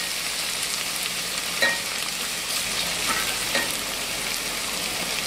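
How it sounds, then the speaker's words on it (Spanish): A peanut filling for stuffed potatoes sautés in a pan, giving a continuous close sizzle with a few soft stirring scrapes and no talk. "Seguimos rehogando esto"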